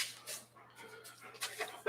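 A long-haired dog named Bailey pants in quick, breathy bursts close by, with one faint whimper in a quiet room.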